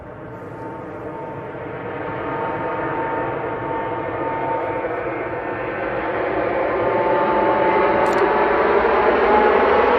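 Airliner departing Manchester Airport, a broad steady jet roar that builds gradually in loudness across the whole stretch, with no voices over it.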